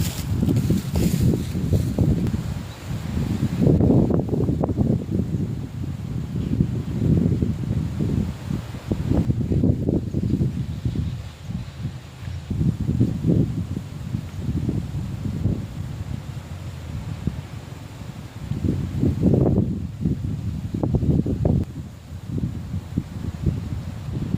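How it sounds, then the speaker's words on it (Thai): Strong wind gusts outdoors in a grassy forest, a steady roar and rustle of leaves and grass that swells and eases throughout, with no talk. "อาจจะลมแรงนิดนึงเนาะ"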